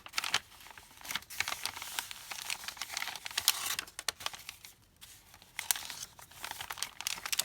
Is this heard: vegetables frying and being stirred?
no